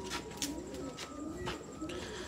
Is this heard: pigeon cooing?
yes